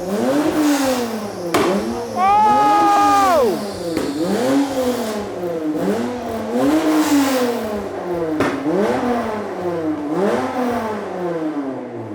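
A car with smoke coming from the engine bay keeps running and won't switch off, its engine revving hard in repeated rising and falling surges, loud and close throughout.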